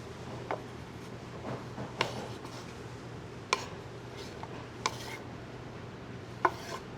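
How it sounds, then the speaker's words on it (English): A knife cuts tomatoes into pieces on a cutting board, giving sharp, distinct taps at irregular intervals of a second or so over a quiet low hum. "cut them into eighths or quarters or whatever your tomato feels like it feels best at"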